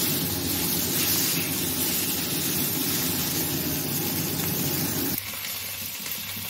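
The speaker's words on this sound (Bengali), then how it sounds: "বাকি মাছগুলো ভেজে নিচ্ছি।" Katla fish fry in hot oil in a wok, giving a steady, close hiss and sizzle that holds for about five seconds, then drops to a softer crackle.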